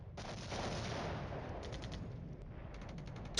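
Enemy artillery fire in the Cold War strategy game Flashpoint Campaigns, a dense continuous rumble of gunfire and shelling with rapid crackling bursts, steady and loud throughout with a sharper hit at the end, no voices.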